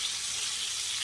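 Ribeye steak sizzling in a hot pan with onions, a steady bright hiss of frying fat, even and close, with no voices.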